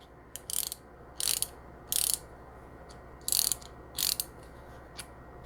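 A GEARDRIVE magnetic stubby ratcheting screwdriver clicks close by in about six short bursts of rapid pawl ticks, separated by quiet pauses, with no voices.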